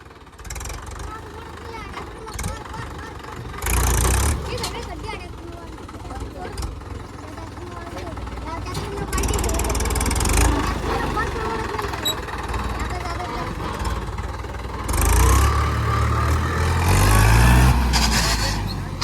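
A Mahindra 475 DI tractor engine runs nearby with a low rumbling idle that swells into louder revving bursts several times, while people talk and shout around it.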